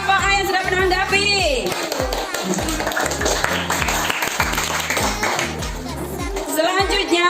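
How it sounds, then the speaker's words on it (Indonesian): Students in a classroom clap for a presenting group, a brisk round of handclaps heard alongside a teacher's voice and melodic tones. "Tepuk tangan juga untuk kelompok A yang sudah menanggapi."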